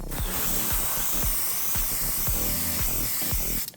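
Gray primer is sprayed from a can onto a model D'deridex-class Warbird starship, making a continuous close hiss that runs unbroken throughout.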